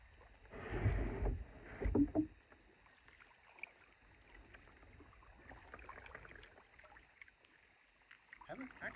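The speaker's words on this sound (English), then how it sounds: "Let's paddle around the island." Kayak paddle strokes in calm water near an island and beaver dam, two soft splashing swishes close by early on, then faint quiet water with light background sounds.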